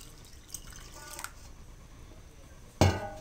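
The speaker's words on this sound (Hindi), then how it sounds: "और इसमें पानी डालें" Water poured onto semolina in an open pot for halwa, a short splashing pour near the end after a few faint drips and clinks of a kitchen utensil.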